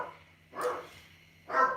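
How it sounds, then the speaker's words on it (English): A dog barks twice nearby in an indoor home setting, two short separate barks with quiet pauses between them. "There must be a dog."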